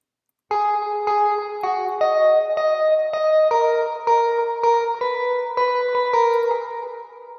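An electric guitar plays a sequence of sustained chords through a Valhalla room reverb plugin, each strum ringing out with a roomy reverb tail, loud and alone.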